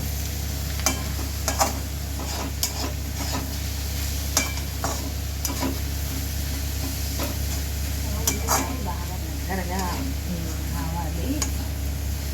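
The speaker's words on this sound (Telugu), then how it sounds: "ఇప్పుడు అంతా ఒకసారి కలుపుకొని మూత పెట్టుకుని ఇంకాస్త మగ్గనివ్వాలండి" Onions with turmeric are stirred in a pan for a dry fish curry, giving repeated scraping and clattering strokes over a low frying sizzle and a steady hum, with a voice speaking now and then.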